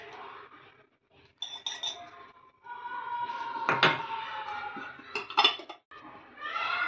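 Metal and glass clinks ring out in a kitchen as a spoon of ghee is added to a pan, with several scattered sharp clinks and handling knocks, close and fairly quiet.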